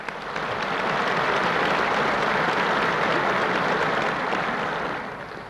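Warm, sustained applause from congress delegates in the Kremlin hall at the 1974 opening of the 17th Komsomol Congress, a dense wash of clapping that swells in and holds steady without voices.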